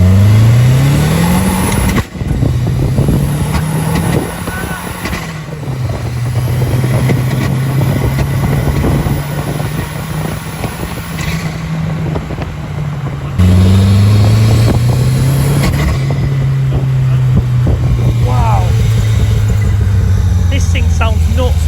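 A modified Triumph Spitfire with a mid-mounted engine of about 400 hp revs loudly and repeatedly, rising and falling through the gears, close and dominant throughout.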